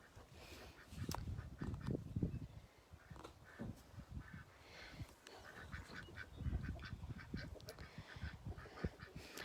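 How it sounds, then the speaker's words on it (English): Rouen ducks on a farm quack repeatedly in overlapping bursts, a small flock calling close by with steady, chattering rhythm and no talk. "So we have a couple of the Rouen ducks."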